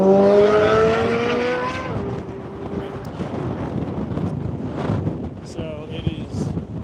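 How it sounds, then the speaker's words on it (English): Strong wind on a cold high plains morning buffets the microphone in a constant rough roar, loud and close, with a voice briefly heard at the start. "Very, very cold and very, very windy."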